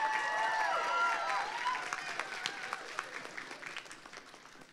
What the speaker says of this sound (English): Another round of applause for Dr. Doctor.